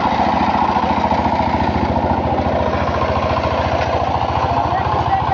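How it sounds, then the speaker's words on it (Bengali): A power tiller ploughs a field with a loud, close, steady engine chug, its rapid rhythmic low thumping continuing unbroken. "দেখেন কীভাবে মেশিনে হাল চাষ করে এই ভিডিও।"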